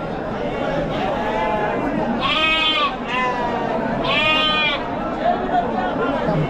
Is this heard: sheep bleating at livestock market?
yes